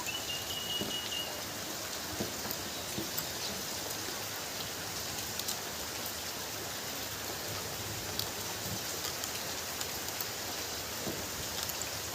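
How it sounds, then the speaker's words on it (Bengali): Steady rain pours continuously, a dense even hiss with scattered drops tapping nearby surfaces; no voices. "আর এদিকে পুরো বৃষ্টি।"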